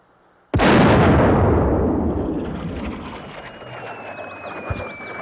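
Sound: cannon firing in a film

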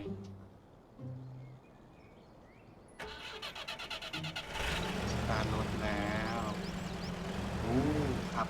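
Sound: truck engine driving off in MudRunner video game

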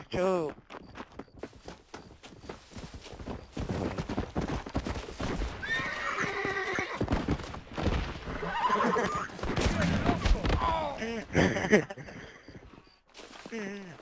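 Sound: horse neighing in video game

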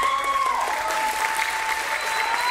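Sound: audience applause at bodybuilding award

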